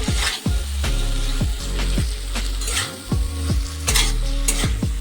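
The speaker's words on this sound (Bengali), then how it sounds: "মশলাটা কিছুক্ষণ ভেজে নেব" Spice paste of ginger, chili and cumin frying in a pan for a paneer curry, a steady sizzle broken by repeated stirring scrapes and clinks of a spoon against metal, close and continuous with no talk.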